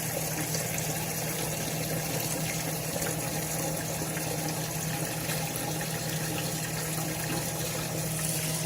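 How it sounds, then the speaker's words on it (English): Aquarium water drains quickly into a bucket during a water change, making a steady, even rush of gushing flow that holds level throughout. "It really starts to drain fast, and you can see it draining out the bottom much quicker."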